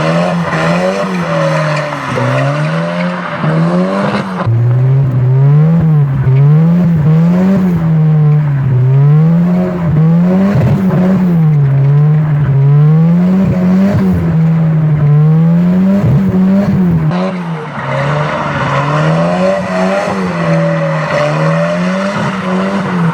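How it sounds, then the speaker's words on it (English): Turbocharged Volvo drift car with a welded differential, its engine droning loud and steady with wavering revs while tires squeal through long continuous drift passes, close and sustained for over twenty seconds, no talking. "This car has a welded differential."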